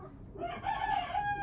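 A Vorwerk chicken lets out a single drawn-out call, close by and fairly loud, rising from a quiet yard background.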